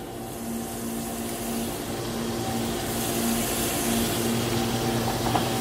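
Clams steaming in a pan, a steady loud hiss and sizzle that builds slightly and holds throughout with no talk.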